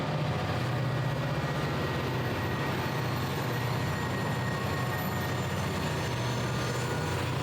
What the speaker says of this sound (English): an extra sand unit train that took loaded sand cars to Pittston